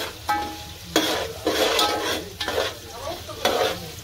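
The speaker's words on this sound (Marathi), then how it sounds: "कांदा जरा ब्राऊन झाला पाहिजे." Onions fry in a pan for chicken biryani, a continuous close sizzle broken by five or six distinct scraping strokes of a spoon stirring through them at roughly regular intervals.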